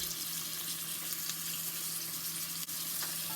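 Diced vegetables, celery and carrots among them, sizzle steadily in a pot with salt and pepper as they are stirred, a soft continuous frying hiss with faint scraping and no talk.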